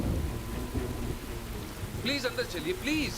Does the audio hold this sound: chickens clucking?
no